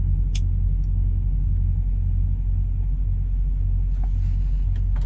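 An old truck's engine rumbles low and continuous from inside the cab, a steady deep drone with a couple of faint clicks, no one speaking.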